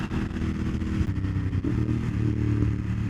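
A Ducati Monster 1200S motorcycle rides on a highway, its engine droning and revving with a quick-shifter upshift that makes a brief clattering cut in the throttle, heard close amid rushing wind.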